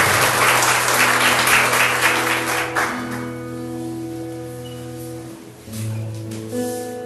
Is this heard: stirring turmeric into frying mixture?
no